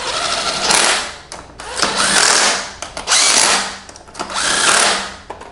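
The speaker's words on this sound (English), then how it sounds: "if you are using a drill like me, you can just do it this way" A power drill whirs in three or four short bursts with brief pauses between, loud and close, tightening wheel nuts on a Quantum powerchair.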